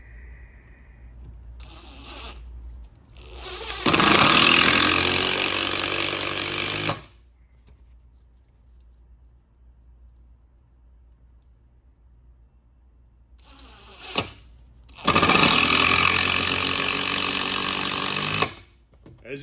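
Cordless impact driver driving screws, with two loud, close bursts of rapid hammering a few seconds each, separated by quiet stretches with small handling clicks.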